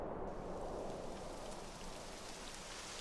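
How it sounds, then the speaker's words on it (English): Steady broadband rain hiss fills the whole moment in the video game Dragon Quest 11, a constant even downpour at moderate level with no voices. "It would have to go and start raining, wouldn't it?"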